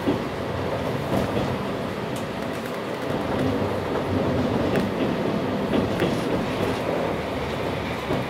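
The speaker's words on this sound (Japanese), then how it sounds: "この列車は鉄道開業150年を記念し、お座敷列車485系花を使用した団体専用列車です。" A JR 485 series Hana tatami-style excursion train departs Yamagata Station, giving a steady, close rumble of running gear with faint clickety-clack wheel beats throughout, no voices.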